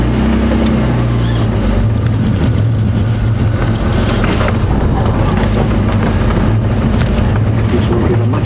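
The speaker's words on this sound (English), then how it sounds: "what I'm thinking of doing is repositioning the vehicle slightly." Safari game-drive vehicle at Djuma Game Reserve repositioning near a hyena den, its engine a steady low rumble throughout, close and fairly loud, with faint voices underneath.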